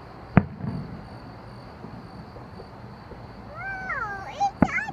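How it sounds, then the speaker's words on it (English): Fireworks going off at night: one sharp, loud bang early on and another near the end, with whistling, rising streaks shortly before the second burst over a steady background hiss. "I have no idea why there's fireworks."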